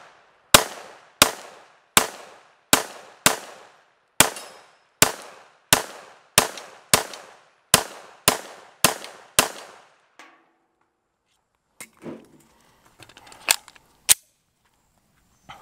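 A PSA Dagger 9mm pistol fired with Fort Scott ammunition, about fourteen loud, sharp shots in a quick, fairly steady rhythm, then a pause with faint clinks and two more shots later.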